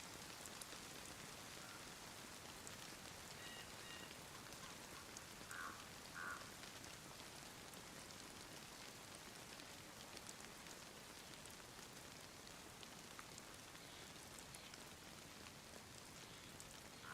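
Quiet, steady rain falls throughout in the survival video game DayZ, a soft continuous patter with no voices.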